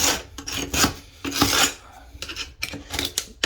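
Close rasping scrapes in short back-and-forth strokes, a gritty tool grinding loose grout from between tiles in a mobile home.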